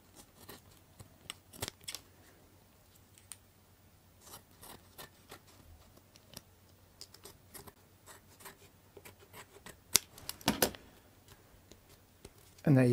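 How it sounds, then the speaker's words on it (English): Scissors trim model railway paving slab material, a series of small crisp snips and ticks, irregular and fairly quiet, with a louder cutting burst near the end. "So we're just going to trim that off now."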